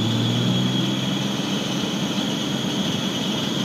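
Nissan 350Z engine held at a steady raised idle around 3,000 rpm while cold, a continuous loud drone with a constant low hum and steady high whine, no voices.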